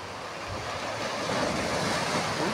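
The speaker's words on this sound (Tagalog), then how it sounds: "Parang galit na galit yung alon ha." Big ocean waves surge and crash against a rocky, sandy shore, a steady broadband roar that swells slightly louder toward the end, with wind noise on the microphone and no talking.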